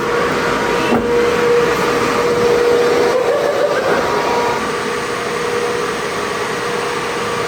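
A steady, loud mechanical whir of a Tesla Model Y RWD cooling fan while its battery discharges, with a constant tonal hum and a slight shift partway through.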